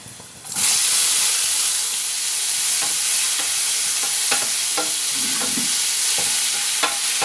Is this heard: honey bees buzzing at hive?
no